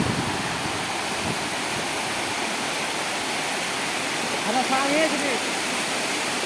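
Floodwater rushing fast over a road, a loud, continuous broadband roar of flowing water filling the whole stretch without a break.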